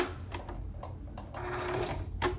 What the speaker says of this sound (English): I've been sewing that all the way through and then back tacking to about there